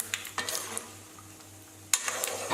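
Spices for tempering are stirred in a pan over a low flame, with a spoon scraping and clinking against the pan in short strokes under a soft sizzle, close and quiet.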